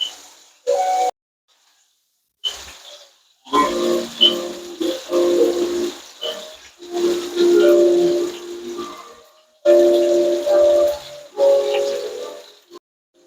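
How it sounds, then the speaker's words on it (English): Chicken pieces sizzle while pan searing, a hissing sizzle that comes in irregular bursts with silent gaps and some tonal whistling steam above it, close and moderately loud. "The rest is on the fire, pan searing."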